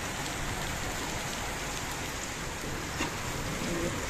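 Heavy storm rain pours steadily and loudly on nearby surfaces, a dense unbroken hiss that lasts throughout with no voices.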